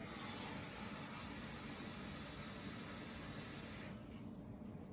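Warm tap water runs in a steady, broadband hissing stream for about four seconds while 1.5 cups are measured for pretzel dough, then the flow cuts off and the sound drops away.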